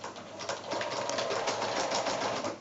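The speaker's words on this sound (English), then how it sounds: "I'm sewing onto the back of my quilt, just using my regular 1/4 inch seam allowance" A sewing machine stitches binding onto the back of a quilt, a close, continuous fast rattling hum with steady needle ticks throughout.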